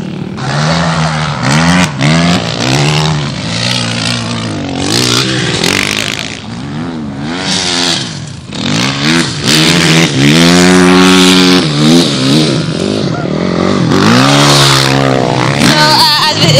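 A motorcycle ridden in circles in Gaza, its engine revving loudly and repeatedly, pitch sweeping up and down in close, continuous bursts.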